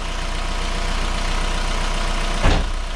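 A 1.9 TDI diesel car engine idles steadily just after starting, a loud, close, even rumble with a brief louder bump near the end.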